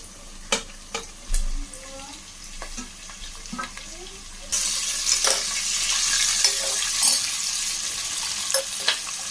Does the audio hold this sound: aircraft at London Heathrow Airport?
no